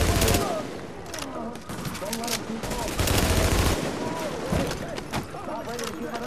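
Gunfire in The Division's Dark Zone, rapid bursts of shots crackling repeatedly over several seconds with heavy low thumps, while someone talks throughout.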